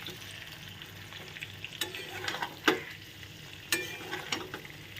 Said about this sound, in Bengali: এর মধ্যেই কিন্তু ভেজে রাখা পটল আর আলুটা দিয়ে দেবো, দিয়ে আরও 3-4 মিনিট ভালো করে কষিয়ে নেব প্রত্যেকটা জিনিস